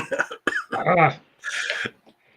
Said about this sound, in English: So I was holding that cough.